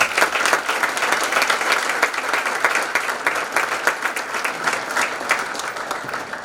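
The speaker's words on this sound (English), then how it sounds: "I would like to give them a round of applause for their dedication" Sustained applause from a school audience at a Hawthorne High School National Honor Society induction ceremony, steady dense clapping throughout with no talk over it.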